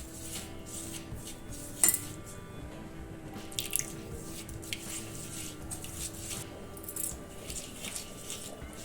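A spoon works pepper-powder spice paste for egg fry together with a little water in a bowl, close up. Soft wet scraping is punctuated by sharp clinks against the bowl at irregular intervals.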